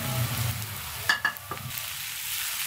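Ground spices such as turmeric, red chili, salt and garam masala stirred into onions frying in a pan for pumpkin curry, a soft steady sizzle with a few clear scraping stir strokes near the middle, no voices.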